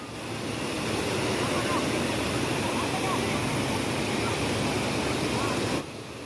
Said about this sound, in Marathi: या बंधाऱ्यावरून खूप छान असं पाणी पडतं आहे आणि याचा छोटासा वॉटरफॉल झालेला आहे